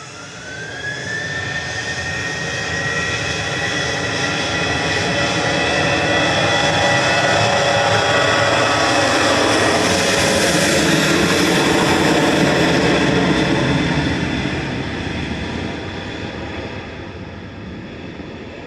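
A Qatar Airways jet taxiing at Manchester Airport gives a steady, loud engine roar with a rising whine that swells toward the middle and eases off near the end, with no talk over it.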